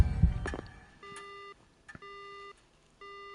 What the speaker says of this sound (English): The phone goes dead.